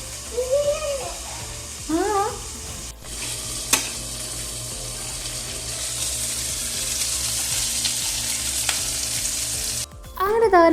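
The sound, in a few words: chicken frying in a pan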